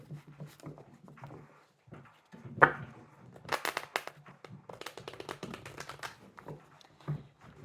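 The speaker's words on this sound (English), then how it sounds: "We'll do two more shuffles" Tarot cards being shuffled close up, soft taps and shuffling clusters building into brisk riffling bursts, quiet and uneven in rhythm.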